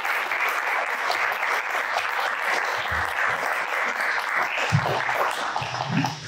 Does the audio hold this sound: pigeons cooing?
no